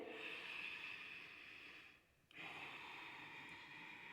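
Steady breathy exhalation during a yoga core exercise for lower-back stability, a soft continuous hiss of breath up close that briefly fades out, then resumes at the same level.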